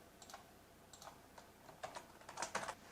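Typing on a computer keyboard while entering text into a web page editor, heard as quiet, irregular clusters of key clicks spread across three seconds, with no talking.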